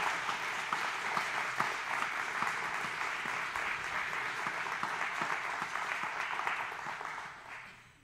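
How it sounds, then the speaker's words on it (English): Sustained applause from a congregation at a Sunday church service, dense and steady for about seven seconds before tapering off at the end. "And now we can applaud because I know you've been wanting to."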